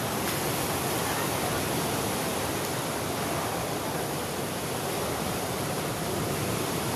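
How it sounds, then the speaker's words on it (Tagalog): Strong ocean waves roar in a constant, loud, even rush of surf with no distinct breaks and no voices. "Lalaki ang alon, mga idol."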